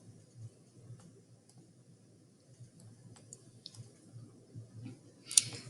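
A computer mouse gives several faint, sparse clicks over a low room hum as someone moves through a web page, ending with one slightly sharper click.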